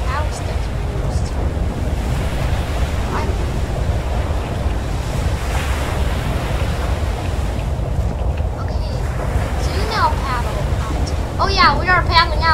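Ocean surf and wind roar steadily around a lifeboat being paddled in an HMHS Britannic video game, with voices chattering faintly near the end.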